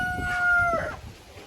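Marans chickens in an outdoor enclosure give a brief close cluck and call, accompanied by a faint steady tonal whine.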